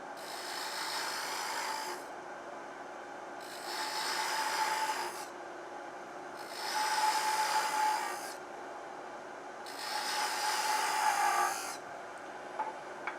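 A 1/16 inch parting tool cuts grooves into wood spinning on a lathe, making four separate bursts of raspy scraping with quiet pauses between them, fairly faint and alone.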